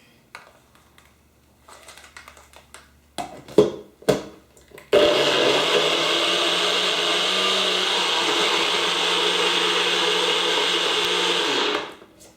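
A blender whirs loudly and steadily for about seven seconds while mixing a leafy green smoothie, then cuts off abruptly, preceded by a few clunks and knocks as it is set up.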